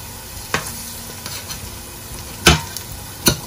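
Egusi seeds fry in hot oil in a pot, giving a steady close sizzle broken by a few sharp scraping knocks as the mixture is scooped and flipped.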